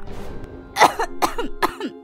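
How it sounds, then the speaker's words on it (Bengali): A cartoon character coughs after eating spicy egg curry, three sharp, close bursts of coughing spaced evenly over about two seconds, each followed by a short throaty catch, over a faint steady background hum. "আমার চোখে জল চলে এসেছে, আমার কাশি পেয়ে গেল"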